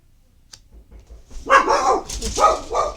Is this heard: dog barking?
yes